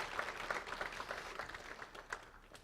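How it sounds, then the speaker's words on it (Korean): A church congregation claps in praise after a choir hymn at a Sunday service, a quiet, steady patter of many hands heard from a distance with no voices over it. "하나님께 영광의 박수 올려드리겠습니다"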